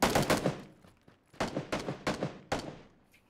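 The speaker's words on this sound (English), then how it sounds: "I'm gonna shoot at him." Gunfire in the battle royale game PUBG: a burst of rapid shots, a short pause, then several more spaced bursts, loud and close with sharp attacks and decaying tails, no talking.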